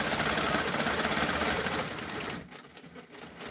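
A sewing machine runs steadily while stitching a continuous border, its fast, even whirring buzz loud and close for a couple of seconds before it slows and stops, leaving quieter handling noises.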